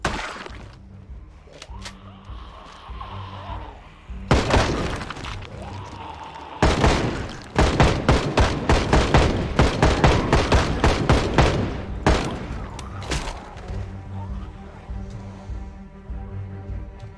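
Project Zomboid gunfire ringing out from a gun in loud, rapid sharp bursts, with a quieter opening and a dense volley of repeated shots in the middle before it fades to scattered reports.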